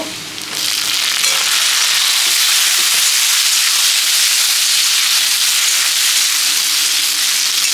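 Onion frying with tomato added in a pan for a crab recipe, a loud, steady, dense sizzle and hiss that runs without a break and has no talk over it.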